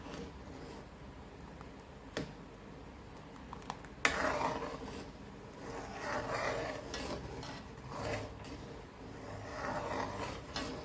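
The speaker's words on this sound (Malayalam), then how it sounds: "നമ്മൾ ഇനി കൈ വിടാതെ ഇളക്കി കൊടുക്കണം." Beetroot halwa thickening in a pan is stirred without pause, giving repeated close scraping and rubbing strokes with a few sharp utensil knocks against the pan.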